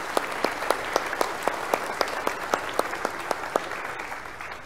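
A church congregation claps for children who sang at a traditional worship service, with a few sharp, regularly timed claps standing out above a steady wash of applause that fades slightly at the end.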